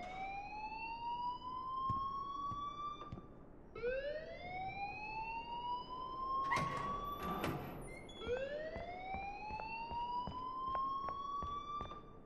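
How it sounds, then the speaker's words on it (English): An alarm in the video game Life is Strange wails in three long rising siren sweeps, loud and steady, with a brief clattering burst between the second and third. "please turn off that alarm since that's your job"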